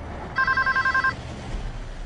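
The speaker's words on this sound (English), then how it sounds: "phones were also ringing at American Airlines" Telephones ringing at the American Airlines offices, a rapid electronic trill of about eight bright pulses in one short burst, loud and close over a low steady room hum, no voices.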